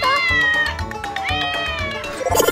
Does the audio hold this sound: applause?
no